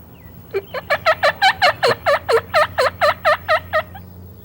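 A wild turkey gobbles in a rapid run of about fifteen loud, rattling notes, close and clear against a quiet background.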